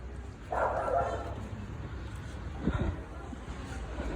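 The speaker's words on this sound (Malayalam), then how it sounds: "മേളിലൊരു ലിറ്റിൽ ഡോഗ് ഉണ്ട്." A small dog yips and barks a couple of times at moderate distance in a building in Zemu, Gangtok, the short barks over low background noise.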